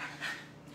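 A child imitates a dog panting with quick, breathy huffs, close and fairly quiet, in short steady bursts lasting under a second.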